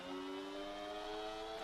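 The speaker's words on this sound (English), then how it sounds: "That Ferrari engine sound is" A Ferrari race car engine in a racing video game holds a steady, sustained drone with strong even harmonics, loud and constant throughout with no talk over it.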